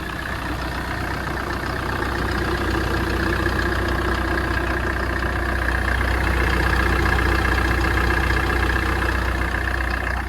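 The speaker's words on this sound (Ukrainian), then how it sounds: "Давайте послухаємо, як працює двигун." A car engine idles steadily, a constant low rumble with a faint tonal hum, unchanging for about ten seconds with no voices.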